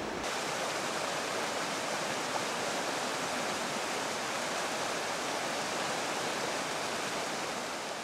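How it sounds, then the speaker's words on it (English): Floodwater gushes down from the hills in a loud, steady, broadband rush that runs unbroken throughout, with no voices. "Water gushes from the hills for several days."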